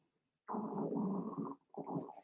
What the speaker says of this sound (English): There's my stomach growls.